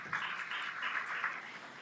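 Soft, steady applause from an audience at a ceremony honouring women officials, a continuous patter of many hands heard at some distance and fairly faint, with no talk over it.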